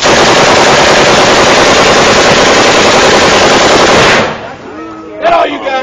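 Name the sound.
full-auto gunfire, shoulder fired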